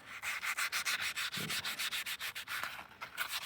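A small cloth rubbed briskly back and forth over a cleaned engine crankshaft for a Small Block Chevy build, giving rapid rhythmic swishing strokes, about six per second, close and fairly quiet with no talking.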